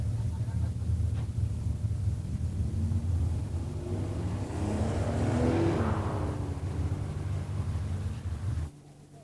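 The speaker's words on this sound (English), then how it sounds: "an 86 Grand National Buick draws the by run and makes a solo pass" A 1986 Buick Grand National making a solo drag strip pass, a steady engine roar under wind noise that swells as the car goes by, then cuts off abruptly near the end.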